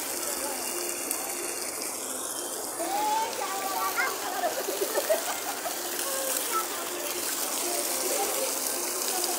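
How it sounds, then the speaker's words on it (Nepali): Fast water rushes at a waterfall in a park in Tanahu, a loud continuous gush that fills the whole stretch, while voices talk faintly under it. "कस्तो स्पिड हो यतिको पानी नि"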